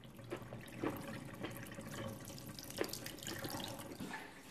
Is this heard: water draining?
yes